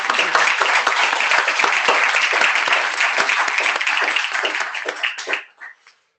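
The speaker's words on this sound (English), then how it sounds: "So I want to invite everybody to give a warm applause for Warren's services the last years." A conference audience at an IETF routing meeting breaks into warm, sustained applause, dense clapping that holds steady for about five seconds before thinning to a few last claps and stopping.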